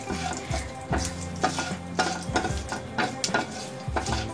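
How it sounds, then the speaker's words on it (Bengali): Panch phoron seeds spluttering in hot oil in a pan, soft sizzle broken by repeated scraping strokes of a spoon against metal, close and without talk. "ওই তেলেই কোয়ার্টার টিস্পুন আমি 5 ফোড়ন দিয়ে দিলাম"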